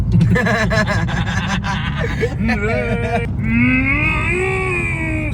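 A cow moos loudly nearby, a long drawn-out low call, with engine rumble and background noise underneath.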